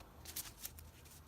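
Large tarot cards being shuffled by hand, a quick run of soft papery riffles and flicks in a quiet room, close and fairly faint, a few sharper snaps standing out.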